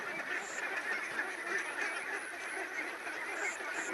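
Ducks kept for sale call repeatedly at a modest distance, a few honking quacks rising over a constant outdoor background hiss.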